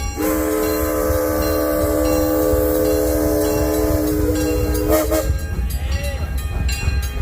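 A red steam locomotive train at Six Flags Over Texas sounds a sustained multi-tone whistle for several seconds, then hisses and rumbles as it passes close by, loud over steady crowd and park noise.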